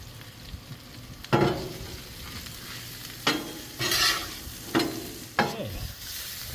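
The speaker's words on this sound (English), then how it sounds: "I'm going to get my onions and peppers down" Onions and peppers sizzle on a hot Blackstone flat-top griddle, a steady frying hiss broken by several sharp scraping and stirring strokes of a spatula, close up with no talking.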